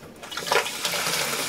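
Cold, sanitized water pouring into a home brew beer fermenter, a close, steady splashing rush that swells briefly before settling into a continuous flow.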